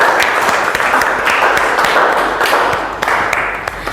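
A classroom of students applauding together after a group presentation, a loud, continuous wash of many hands clapping close by, with a few sharper individual claps standing out.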